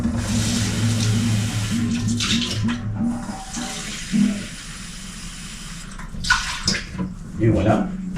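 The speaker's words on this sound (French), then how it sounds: "Donc, je vais rajouter une tasse d'eau." Water pours steadily into a cooking pot for rice, a close rushing splash for the first few seconds that then stops, followed by a few clinks and a person speaking.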